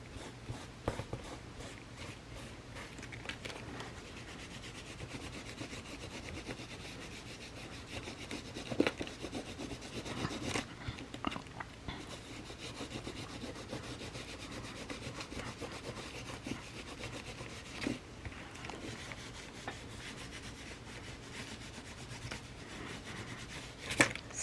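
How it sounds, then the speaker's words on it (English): Stencils being rubbed clean with rubbing alcohol, a steady scrubbing and rubbing texture with occasional louder strokes, close and continuous with no talking. "Just a quick example of cleaning off your stencils with"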